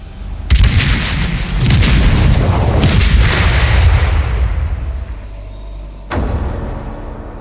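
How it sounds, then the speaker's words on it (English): A historic coastal fort artillery gun fires with a loud, deep boom followed by a long rumbling echo, with further heavy reports a second or so apart and another blast near the end. "Number 6 gun on target, prepare to fire."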